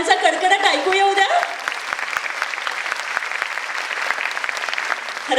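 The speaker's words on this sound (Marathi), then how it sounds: "जरा टाळ्यांचा कडकडाट ऐकू येऊ द्या." An audience bursts into applause after a classical dance performance at a fashion show, clapping steadily and densely for several seconds, with a brief stretch of speech or music at the start.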